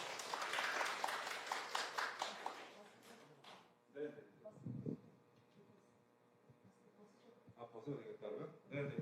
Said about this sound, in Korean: 오늘 주인공이신 황인찬 시인님 박수로 맞아주시면